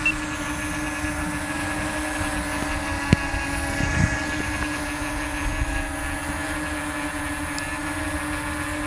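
A Fader Hawk+ drone hums steadily in flight with a constant high-pitched motor whine and tonal buzz that holds level throughout, with a couple of faint clicks and no talking.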